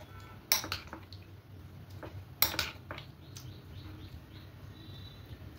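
A spoon scrapes and clinks against a bowl while an oats dessert is stirred with jaggery, a few sharp close knocks followed by softer intermittent taps.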